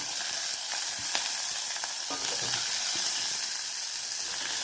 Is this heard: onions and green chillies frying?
yes